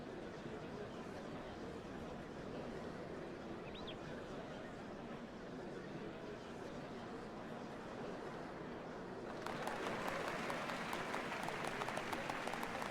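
A crowd in Final Fantasy XIV Dawntrail gathers for the changing of the Dawnservants, with a murmuring throng and birds in the background before loud, sustained applause breaks out and continues to the end.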